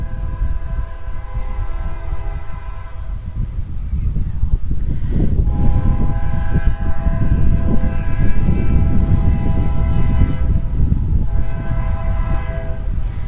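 A Union Pacific train passes close by a ballpark during a baseball game, its horn sounding in long sustained blasts over the continuous rumble and clatter of rail cars that builds and persists throughout.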